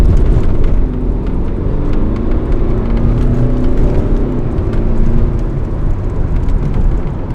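BMW X1 2.0 diesel car accelerating, a steady loud engine drone with rising tonal bands as revs climb, continuous throughout with road and wind noise, no talk.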